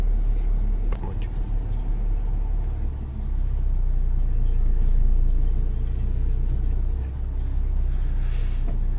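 A loaded truck carrying pallets of stones toward a construction site rumbles along at low speed, its engine a steady, close drone inside the cab with little change in level.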